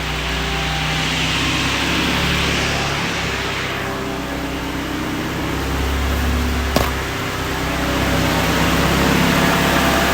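A Honda CRX engine idling up close, a loud steady rumble mixed with fan-like whooshing that shifts slightly in tone midway, with one brief click, and no one speaking.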